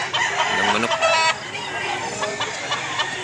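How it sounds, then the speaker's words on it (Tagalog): A rooster crows loudly and close, with some clucking from fowl around it, at a rural poultry sale in Mantalungon, Cebu. "Ang manok."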